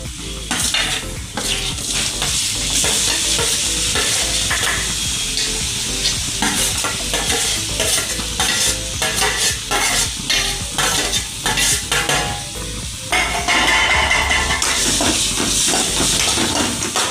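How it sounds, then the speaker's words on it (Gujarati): Chopped tomatoes and onion sizzle loudly in a pan for Kathiyawadi khichdi, with a continuous frying hiss broken by rapid, repeated scraping strokes of a spoon stirring throughout, no voices. "તો હવે આપણે ટમેટા અને ડુંગળી હારી પેટ એટલે આમ શેડવા દેવાની છે"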